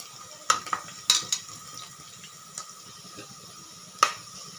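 Onions sautéing for chicken biryani, a faint low sizzle broken by a few sharp metallic clinks of a spoon stirring against the pan.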